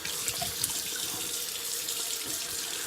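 Tap water runs steadily into a sink, rinsing alum off the face after a shave, a continuous close hiss with no voices.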